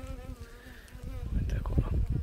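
Honeybees buzzing at a beehive that was starving, a close, droning hum that grows louder and busier partway through, with no voice over it.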